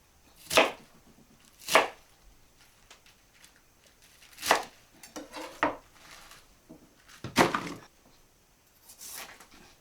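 A knife chops vegetables for homemade kimchi on a board, landing a handful of sharp, separate cuts with gaps between, close and fairly loud, along with a few softer clatters.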